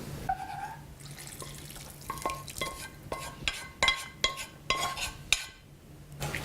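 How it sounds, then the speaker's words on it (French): Beef broth poured into a cooking pot, a faint liquid trickle and splash broken up by light clinks and sloshing pulses in an uneven rhythm. "Et là, on y verse notre bouillon de bœuf."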